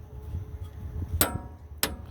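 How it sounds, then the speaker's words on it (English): Two sharp metallic taps of a hammer striking a punch to drive it through a strut part on a 2011 BMW 535i 3.0L, light and close over a quiet background. "I'm going to use a punch and a hammer to punch this through the other side"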